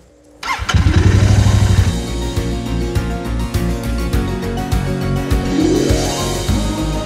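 Motorcycle engine being started after a repair for a blown fuse from a short circuit: a sharp burst as it fires, a loud revving swell, then a close, steady, chugging idle with no voices.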